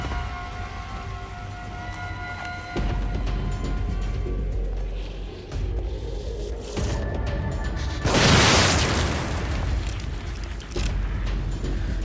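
An explosive barrel bursts in The Evil Within video game, a loud broadband boom rising out of a dense, noisy game soundscape and trailing off into continued ambient clatter.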